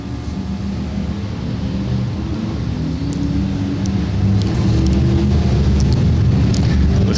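Dirt track race cars running slow laps at a speedway to spread oil on the racing surface, a continuous rumbling engine drone that swells slightly louder toward the end, fairly close.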